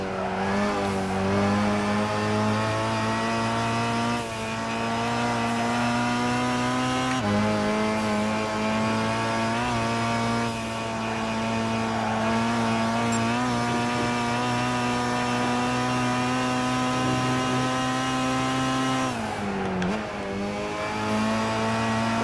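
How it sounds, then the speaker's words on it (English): A steady, loud car engine drone with strong harmonic whine holds throughout, briefly dipping at gear shifts with turbo whoosh and wastegate flutter, no talking, in Gran Turismo 5. "the wastegate sounds, turbo sounds, it's pretty epic in this car. You hear it when I shift"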